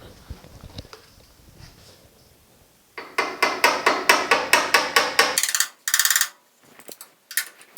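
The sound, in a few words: hammer tapping sheet metal flat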